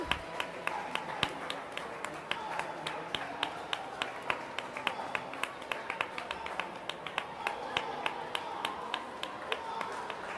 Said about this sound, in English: All the volunteers cheering on.